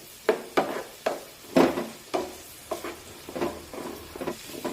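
Vegetables sauté in a little oil while a spatula pushes them around in about nine rhythmic strokes, each a short scraping burst over a low sizzle.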